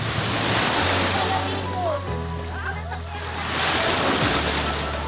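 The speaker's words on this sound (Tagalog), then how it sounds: "Lakas ng alon, grabe yun." Strong ocean waves surge and crash steadily at Puka Beach, Boracay, with wind buffeting the microphone and voices talking faintly in the background.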